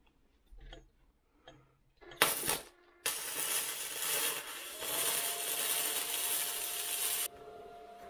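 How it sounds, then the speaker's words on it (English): A Bestarc 145 amp gas MIG welder runs at 100 amps and 19 volts, giving a steady, close crackling hiss that lasts about four seconds after a few light clicks and a short burst. "That was our weld, 100 amps, 19 volts."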